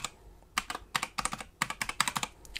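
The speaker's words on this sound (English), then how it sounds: "So I'm just going to type in password" A password is typed on a computer keyboard in close, crisp key clicks, a few short bursts of quick strokes separated by brief pauses, with nobody talking.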